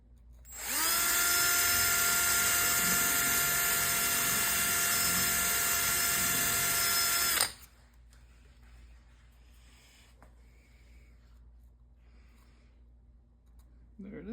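A power drill bores holes for shear pins into a high-power rocket's payload bay, running loud and steady for about seven seconds before stopping, followed by quiet handling noise.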